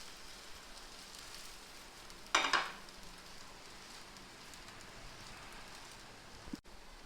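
A rava spinach dosa sizzles in the pan right after being flipped, a brief loud hiss bursting up then settling into a faint steady frying crackle, with a small clatter near the end.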